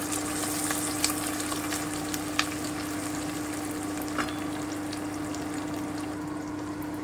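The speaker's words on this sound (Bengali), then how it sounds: "আমি কুচনো আদাটা আর কাঁচা লঙ্কাটাও দিয়ে দিলাম, দিয়ে আমি আরও একটু ভেজে নিচ্ছি।" Garlic, ginger and green chili fry in a pan with a steady, close sizzle and crackle that runs throughout, with a few small pops and no talking.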